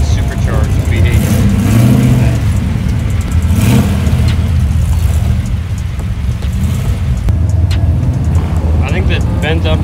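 A classic car's supercharged V8 with a large blower rumbles loud and close at a cars-and-coffee show, holding a steady, throaty drone throughout. Voices and crowd noise sit under the engine.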